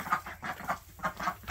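Chickens cluck inside a coop during routine cleaning, a series of short, close, moderately loud clucks in an uneven rhythm, several in quick succession with brief gaps, and no talking.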